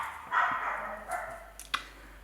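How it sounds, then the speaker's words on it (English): A pet dog barks indoors at home: a couple of short, moderately loud yelps stand out over a steady background hum, with no one speaking. "there goes my doggy."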